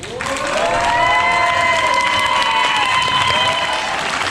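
A street show audience in Sarlat-la-Canéda erupts in loud, sustained applause with cheering and excited shouts, including children's voices, swelling quickly and holding strong to the end.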